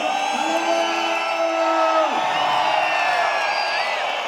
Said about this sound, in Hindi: सीटी बजा सकते हो, ताली बजा सकते हो, हू हल्ला कर सकते हो, एक्साइटमेंट दिखा सकते हो